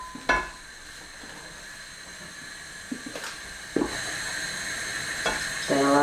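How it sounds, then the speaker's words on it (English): Mac and cheese sauce being stirred on the heat as milk is added, with a steady low sizzle and hiss under intermittent short scraping strokes of the spoon against the pan. "So just a small amount, stir it in so it's all fully combined"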